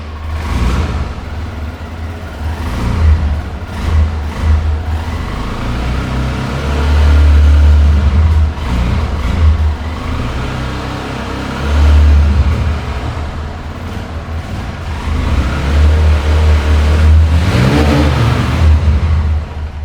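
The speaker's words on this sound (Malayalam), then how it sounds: "എഞ്ചിൻ നോയ്സ് നിങ്ങൾക്ക് കാണിച്ചു തരാം" A Hero Splendor motorcycle engine, freshly rebuilt and run about 1500 km since, idles steadily close by and is revved several times, with the note swelling and settling back in a continuous, even drone.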